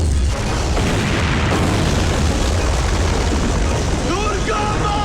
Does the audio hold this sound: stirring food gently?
no